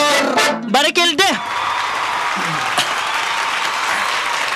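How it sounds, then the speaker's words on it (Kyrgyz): Audience applause at a talent show: a brief sung or spoken phrase gives way to a steady, sustained wash of clapping from the crowd that carries on evenly to the end. "Кол чабуулар."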